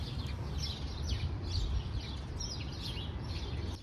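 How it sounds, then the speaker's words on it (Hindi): Birds chirp in the morning outdoors, a string of short, fairly faint tweets repeating over a soft, constant background hum. "ये है नेक्स्ट मॉर्निंग का टाइम और ये चिड़ियों की आवाज़ आती है, इतनी खूबसूरत लगती है"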